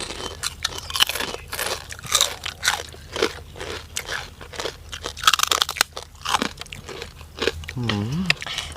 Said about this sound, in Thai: บอกเลยว่ากรอบสนันจอแบบทะลุเข้าไปในหูพี่น้องแบบกรับ